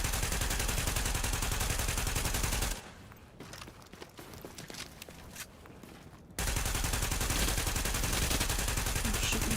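Heavy sustained automatic gunfire in the online shooter Tom Clancy's The Division, loud and dense bursts that drop away for a few seconds of quieter scattered shots before resuming at full intensity.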